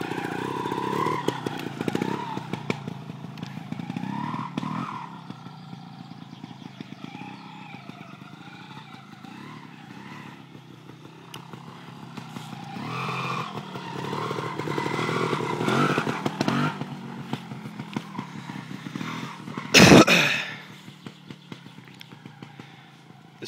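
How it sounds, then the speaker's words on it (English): A Gasgas 300 Pro two-stroke trials motorcycle is ridden nearby, its engine revving and bogging in uneven bursts with clattering and scraping through bushes, then a sharp loud crash of impact partway through. "This is how not to ride a trials bike, lads."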